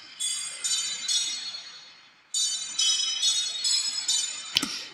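Bright metallic chimes ring out in the stripped-down intro of an electronic music track. Shimmering bell-like strikes repeat in loose clusters over a soft atmospheric pad, ending with a sharp percussive hit.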